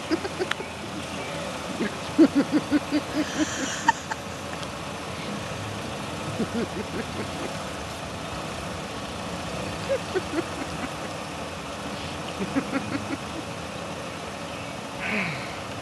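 A car idles steadily through a young driver's first lesson, a low continuous engine hum with faint knocks and rattles, while people talk and laugh over it.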